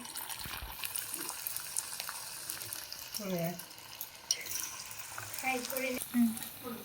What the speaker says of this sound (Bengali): এবার আমরা আলুগুলোকে ফুড কালার দিয়ে ফ্রাই করে নেবে।